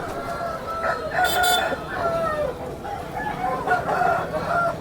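Several roosters crowing repeatedly at a busy rooster market in Gokavaram, overlapping calls near and farther off with clucking and a murmur of people.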